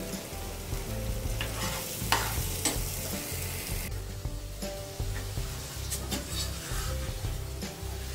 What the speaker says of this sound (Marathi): याच मसाल्यात आपण ही कोळंबी टाकून आता ही छानपैकी परतून घेणार आहोत।